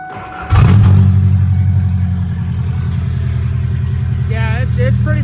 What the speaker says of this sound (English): I guess I could let you guys hear the car